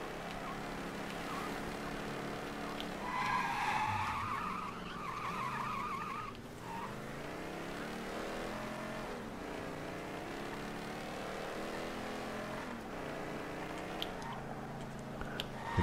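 Car in Mafia III making a turnaround, tires skidding and squealing briefly while the engine drones on, then steady driving noise, moderately loud with no talk.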